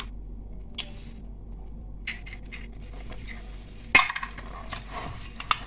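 A utensil turns potatoes with an egg in a pan, producing light clinks and scrapes against the metal over a low steady hum, with one sharper knock near the middle.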